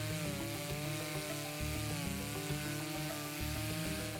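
A 10.8-volt cordless trimmer runs continuously with a steady, buzzing motor whine and a faint pulsing rhythm, close and unbroken, with no talk.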